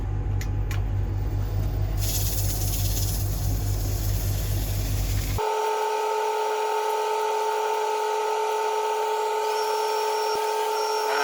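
A wood lathe spins a cedar blank at slow speed, giving a steady motor drone and whine, loud and close. Partway through the hum shifts to a higher, cleaner tonal whine.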